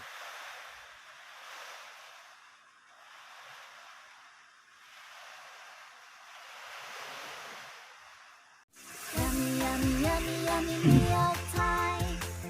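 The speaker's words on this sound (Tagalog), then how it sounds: "Mapagyo ngayon, malakas ang hangin sa kaulan." Strong stormy wind blows outdoors in gusting waves, a soft broad rushing that swells and fades for several seconds before music abruptly takes over.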